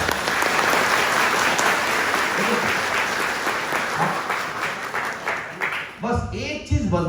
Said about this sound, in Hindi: अगर ताली बजाना है तो सबको बजाना पड़ेगा और जोर से बजाना पड़ेगा।